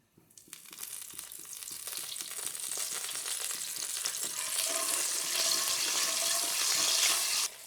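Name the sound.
water added to sizzling Kashmiri dum aloo spices in pan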